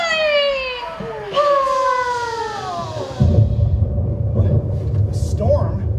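A storm rumble sound effect in a stage parody musical of Kingdom Hearts: a deep, loud rumbling swells in about halfway through and keeps rolling to the end, after a voice with falling tones.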